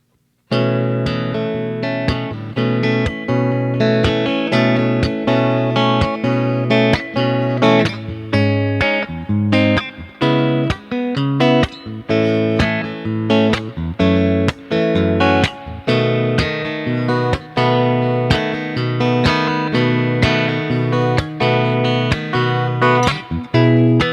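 An electric guitar strums a steady chord progression from a song with a processed, slightly distorted tone, continuous and loud with rhythmic strokes throughout.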